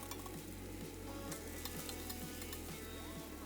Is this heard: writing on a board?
no